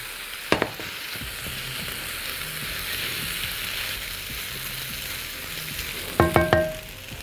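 Pasta tipped into an oiled frying pan for a tuna and dill dish, giving a steady sizzle of frying throughout, with a brief clatter near the start and a cluster of sharp scraping knocks from stirring near the end.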